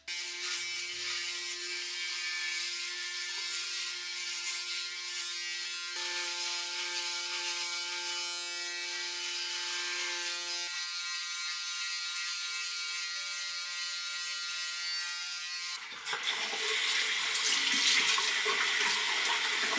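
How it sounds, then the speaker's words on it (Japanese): An electric shaver buzzes steadily while shaving stubble before work, a continuous close mechanical hum that shifts pitch partway through, then gets louder and harsher near the end. "ちょ っとひげが伸びてるので出勤前に電動シェーバーで剃ってから行きたいと思います"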